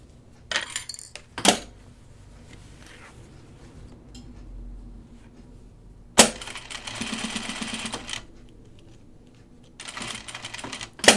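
A sewing machine stitches around the zipper of a backpack, running in short bursts of rapid mechanical clatter between quiet gaps, with sharp clicks and handling knocks in between, close by and with no talking.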